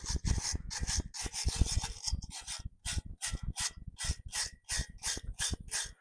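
Close, rhythmic rasping of hand sanding on a metal gas cylinder being made into a grill, quick back-and-forth strokes repeating steadily with short pauses between bursts.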